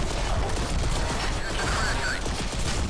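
An alien machine gun fires in Crysis 3, a dense, continuous rattle of rapid shots within loud, busy combat noise and mechanical clatter, with no break across the burst.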